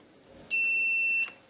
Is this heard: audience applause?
no